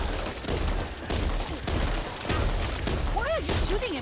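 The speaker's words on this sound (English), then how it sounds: "Why are you shooting at me?" Dense gunfire rattles through a hectic co-op fight in Back 4 Blood, with rapid shots layered over a constant roar of game noise and a voice speaking over the action.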